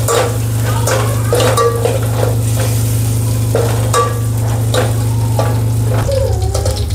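Rice kheer with raisins stirred in a pot, repeated scraping and clinking of a spoon against the metal over a constant low hum, close and fairly loud, with no one speaking.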